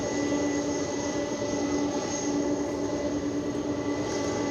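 A UPS cargo jet takes off at DFW Airport at night with a loud, steady engine roar and a constant whine, heard alone and without pauses.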